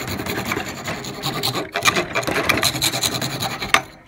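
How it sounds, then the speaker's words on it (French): A hand file rasping back and forth on a metal menorah held in a vise, loud and close, in uneven strokes with a brief pause partway through, no talking. "Je vais venir limer ici."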